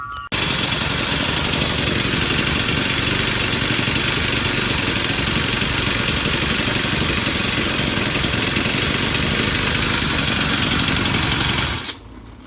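A Troy-Bilt TB6044 XP small gasoline engine runs steadily after a carburetor cleaning, a loud, even, close-up drone holding for about twelve seconds before it cuts off near the end.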